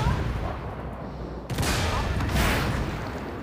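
Ariete tank firing F1B rounds in the game Armored Warfare: a sudden heavy cannon boom cuts in midway over rumbling engine and battle noise, followed by a second burst of blast.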